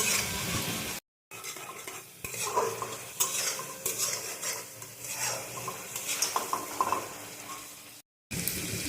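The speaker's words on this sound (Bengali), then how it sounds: "একটু ভালো করে কষবে, তারপর পরিমাণ মতন জল দিয়ে ফুটিয়ে নেব" A spoon scrapes and stirs duck eggs and potatoes frying in curry in a metal pan, a steady sizzle underneath with clinks of utensil on the pan, close and continuous, broken by two brief silent gaps.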